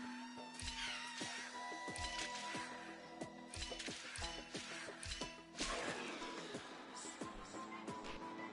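A cat meows repeatedly in the video game Honkai: Star Rail, with several clear meows over soft game music and small thumps, fairly faint overall.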